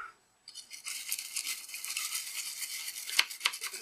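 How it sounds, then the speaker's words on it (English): A toothbrush dipped in white cleaning vinegar scrubs a TV infrared remote control, giving a steady close-up bristly scraping with a couple of sharp clicks near the end, no talking. "And our trusty toothbrush."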